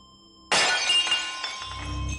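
Glass smashes loudly in a sudden bright crash after a half-second of quiet, the shards ringing and tinkling as they scatter and settle over the next second and a half, with a low rumble coming in at the end.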